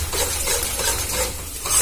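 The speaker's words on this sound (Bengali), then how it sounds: "ভালো করে নাড়াচাড়া করে ভেজে নেব" Pointed gourd fries in a pan while being stirred, a continuous close sizzle with irregular scraping and shuffling from the stirring and no talking.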